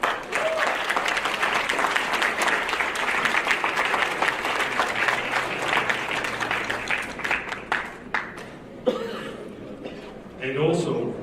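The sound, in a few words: audience applause at farewell event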